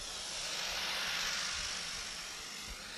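Airplane engine idling loudly while skydivers board: a steady, close, broadband roar with a hissing upper edge that stays level throughout, with no talk over it.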